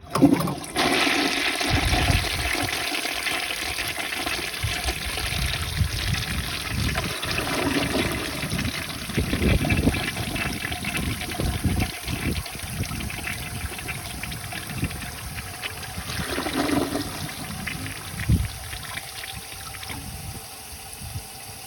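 A 1953 Gerber Arlington toilet with a siphon jet and rim jet flushes in one long continuous rush of water, loud and close, gurgling and trickling as the bowl refills with no talking.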